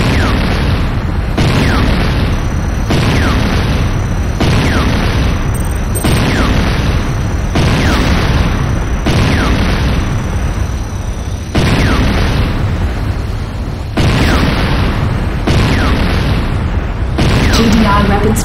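A GDI weapons factory blows apart in the video game Command & Conquer: Renegade. Loud, dense explosions and rumbling bursts roll on continuously, with a game announcer's voice over them.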